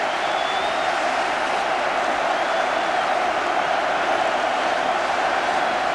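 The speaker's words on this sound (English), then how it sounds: "the vast crowd inside the stadium welcome the teams" A vast stadium crowd at the 1982 FA Cup Final between Tottenham Hotspur and Queens Park Rangers roars and applauds steadily as the teams come out, a dense, continuous wall of cheering noise throughout.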